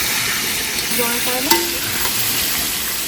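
Cut potatoes seasoned with salt and turmeric fry in hot oil, giving a loud, steady close-up sizzle with stirring and a single sharp clack of the utensil midway.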